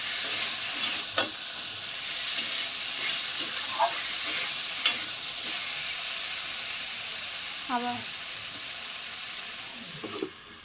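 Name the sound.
stirring and frying meat in a pan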